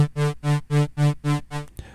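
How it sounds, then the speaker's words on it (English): A synth oscillator's level swells and dips in a steady pulse driven by a sine wave LFO, giving seven even throbs of a buzzy tone before cutting off. "You're just hearing climbs and dips in the audibility of the oscillator"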